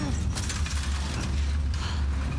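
In The Last of Us Part II, a garbage dumpster rolls, giving a loud, close, continuous rattling, creaking rumble of metal on wheels with a heavy low drone beneath, no talk.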